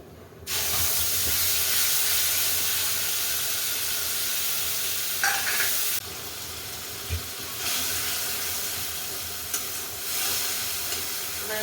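Spice paste (masala) with a little nigella seed sizzles and fries in hot oil, a steady close hiss with soft stirring scrapes and a few louder crackles.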